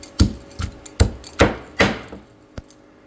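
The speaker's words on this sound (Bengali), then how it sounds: "আমি ভালো করে এই রসুন, পেঁয়াজ, কাঁচামরিচ সব যে ভেজে নিয়েছিলাম সব একটু কুটে নেব" Knife chopping fried garlic, onion and green chili on a board: about seven distinct, close thuds at an uneven, unhurried pace, with no talking.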